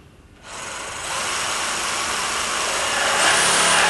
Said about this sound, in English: you start the saw nice and slow and build revs up.